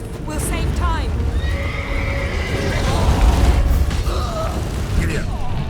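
A horse in The Witcher 3 whinnies loudly and close, and its hooves clop and gallop beneath a rumbling game soundscape, with a voice speaking over it.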